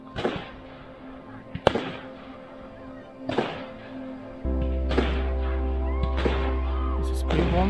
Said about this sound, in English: We're watching the firework for Canada Day here.